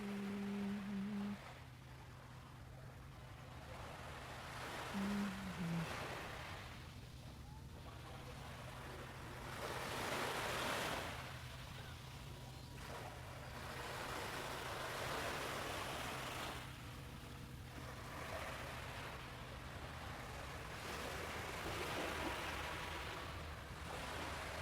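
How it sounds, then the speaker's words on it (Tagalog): Ocean waves wash onto the shore in the morning near Tsuruga, Fukui, in slow recurring surges of soft rushing surf with a faint wind-like hiss between them. "Ganda yung ganito umaga na magigising ka sa sa tunog ng mga alon."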